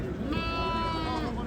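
A sheep lets out a single wavering bleat up close at a crowded open-air sheep market in Ganja, with people talking in the background.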